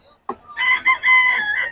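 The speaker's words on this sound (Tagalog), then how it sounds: "marami naman manok yata" A chicken at a market lets out a short, loud crowing call up close, a brief sharp onset followed by a sustained, wavering cry.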